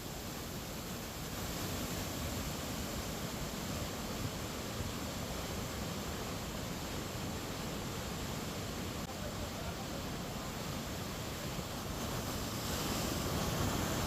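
Floodwater rushing after a cloudburst in Dehradun, Uttarakhand, a steady broadband roar that fills the whole clip without letup, loud and close, swelling slightly toward the end.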